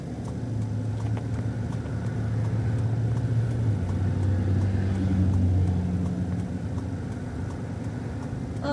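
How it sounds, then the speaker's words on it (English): Manual transmission car pulling away in first gear as the clutch is let out, a steady low engine drone rising slightly in pitch, close and continuous, with no talk. "Now I'm gently going to let the clutch out and put my right foot on the gas."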